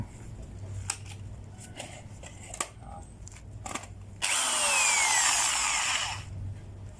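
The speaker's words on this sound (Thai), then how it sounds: "เจาะรูเพื่อใส่เหล็กตัวนี้นะครับ อ่าสว่าน" A power drill whines loudly for about two seconds after scattered knocks and clicks, then spins down, with a low hum underneath.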